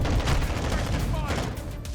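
Shotgun gunfire in the video game Call of Duty, a short burst of booming shots mixed with game noise, with a player talking over it.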